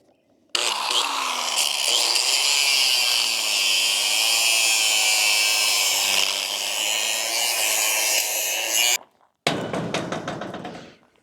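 An angle grinder cuts off metal pieces with a loud, sustained harsh whine lasting several seconds, briefly stops, then starts again for a shorter burst; no talking over it.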